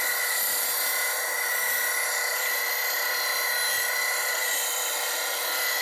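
A steel woodturning gouge is held against a bench grinder on a Wolverine sharpening setup, producing a steady, loud, high-pitched grinding hiss that stays constant throughout, close up, with no talking.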